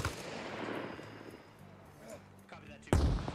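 A frag grenade blast in the military shooter Arma Reforger, set in a WW2 scenario, lands as one sudden loud boom near the end, after quieter game noise with voices talking over it.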